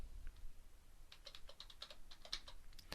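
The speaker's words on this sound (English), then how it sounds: "I'm going to type in ECP, which doesn't exist" Fingers tap quick, light clicks on a computer keyboard while text is entered into an office program, an irregular close run of keystrokes bunching up in the second half.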